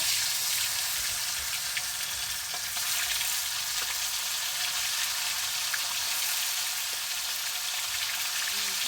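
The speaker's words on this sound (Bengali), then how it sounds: "এখন পনিরগুলোকে ভাজা করব" Paneer fries in hot oil in a kadai over a wood-fired stove, giving a dense, even hiss that stays close and constant throughout.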